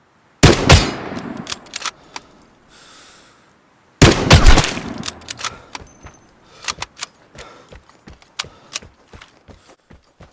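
Gunfire from Suomi and SG-1 weapons in the shooter game Vigor: two loud close volleys of rapid automatic shots, then a long string of sharper single and burst shots echoing at varying distances.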